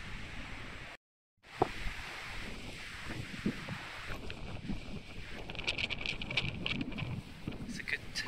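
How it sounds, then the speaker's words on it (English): Strong wind gusts buffet the microphone outdoors on a walk around a National Trust estate, a steady roaring rush with a brief dropout and some rustling, and no clear talk. "It's a good test for the wind filter today. It's very windy."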